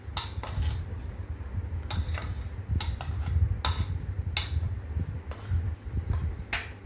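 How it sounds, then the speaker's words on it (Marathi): Dry fruits being stirred into a banana delight dessert, a spoon clinking and scraping against the bowl in repeated short strokes, close and moderately loud over a low steady hum. "आता आपण त्याला मिक्स करूया."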